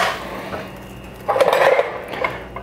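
A breakfast pan set back on the stove heat, giving a close metallic clatter and scrape of cookware with a brief louder clunk partway through.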